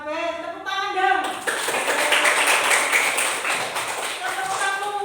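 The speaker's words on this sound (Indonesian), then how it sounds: "Ada yang bener kabeh, tepuk tangan dong." Classroom of elementary students clapping together in a steady burst of applause after a teacher's prompt, a dense, close, lively patter lasting several seconds, with a voice talking just before the clapping begins.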